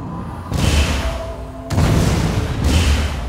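A weapon fires in the Spore video game with heavy, booming blasts in long rumbling waves, loud and close, three surges in quick succession.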